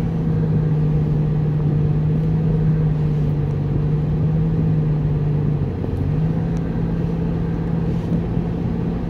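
Pontiac Solstice driving through Dubai, its engine giving a continuous low droning hum with a steady tone inside the car, briefly dipping around a gear change before resuming, loud and constant throughout.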